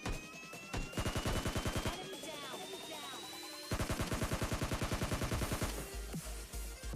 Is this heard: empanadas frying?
no